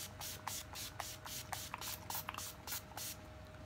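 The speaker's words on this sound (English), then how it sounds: "the last thing you have to do is spray the crap out of your face" Rapid short bursts of a makeup setting spray pump hissing close by onto a face, about a dozen quick spritzes in a steady rhythm.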